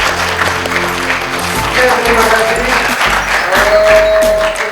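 An audience claps at a product soft-launch event for PT. AMS Indonesia. The applause is moderately loud and runs under a speaking voice and background music.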